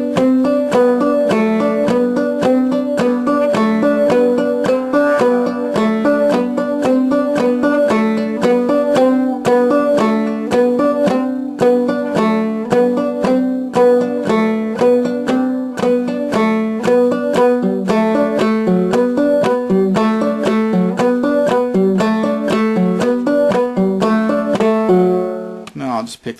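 Fretless banjo played in the stroke style from Rice's 1858 method, running through a whole song at a slow tempo: steady, even strummed and plucked notes ring out loud and close for the entire passage, with no talking.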